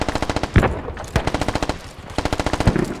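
Automatic gunfire rattles in the tactical shooter game Squad, two loud close bursts of rapid shots with a short pause between them.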